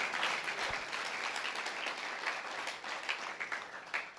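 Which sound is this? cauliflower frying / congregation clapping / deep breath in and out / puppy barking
congregation clapping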